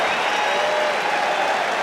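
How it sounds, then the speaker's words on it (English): Steady wash of applause from a big rugby stadium crowd at England v Scotland, broad and continuous with a murmur of crowd noise beneath, no distinct voices on top. "Applause for Jonathan Joseph,"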